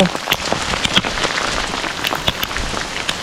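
Hail drums hard and continuously during an August storm in Norway, a thick crackling patter of close impacts with a few louder hits standing out, no speech.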